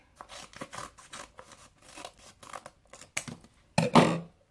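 Scissors cutting roughly around a paper Halloween pumpkin, a run of close, crisp snips and rustling paper, ending in a louder crinkle of the sheet being handled.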